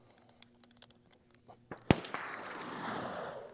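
One sharp shot from a 1911 pistol fitted with a K-Can suppressor cracks out after a few faint clicks and taps. A broad hiss then lingers and fades slowly.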